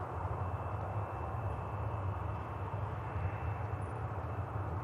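TransSun charter airliner at Manchester Airport, a steady broadband engine roar holding at an even level throughout, fairly loud and unbroken.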